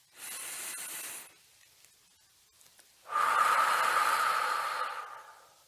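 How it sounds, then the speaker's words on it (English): A slow, deep breath drawn in and then a longer, louder exhale blown out, close to the microphone with a short pause between, no talking. "Deep breath, like this."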